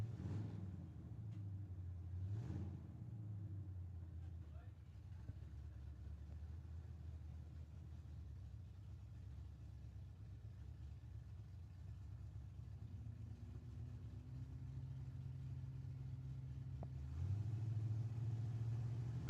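A pickup truck and a Pontiac Firebird idle together at a drag strip, a steady low engine rumble that continues without pause and swells slightly near the end.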